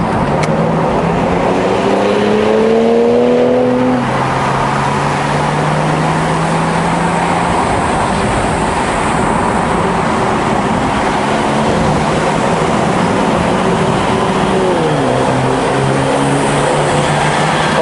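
A 2011 BMW 640i F12 being driven on the road, a steady loud engine and tyre drone with rising and falling gear-change tones near the start and again near the end, heard without talk.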